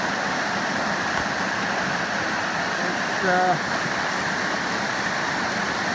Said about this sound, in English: This is Calmer Creek Falls.